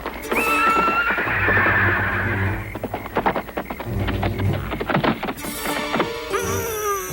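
A horse whinnies loudly, followed by clattering hoof clip-clops and knocking, then more high neighing near the end.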